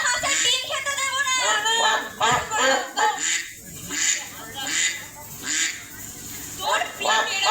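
A performer in a stage play at a Rabindra Jayanti cultural event imitates a duck with a voice, giving a string of loud, rhythmic nasal quacks close by.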